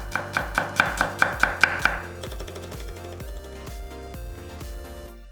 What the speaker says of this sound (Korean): 통마늘 두 개 다져서 담아주고